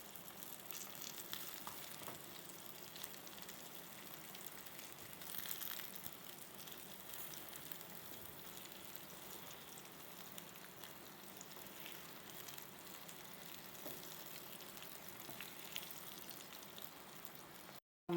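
Brinjal slices sizzle in hot oil in a frying pan, a faint, steady crackling hiss that runs unbroken throughout.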